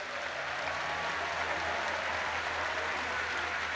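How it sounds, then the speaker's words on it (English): Dense, steady crowd applause fills a large arena after the EuroLeague basketball final between Olympiacos and Real Madrid in Kaunas, loud and continuous with no break. "ladies and gentlemen, please give a round of applause"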